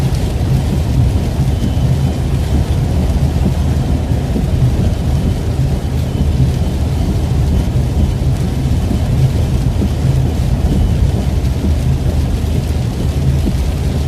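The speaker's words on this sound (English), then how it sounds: "there's definitely a little bit of rain and some lightning and thunder moving in" Thunderstorm in southern Virginia with steady heavy rain and low thunder rumbling continuously throughout, a dense, loud wash of sound with no talking.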